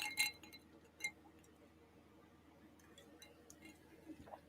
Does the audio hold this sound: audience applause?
no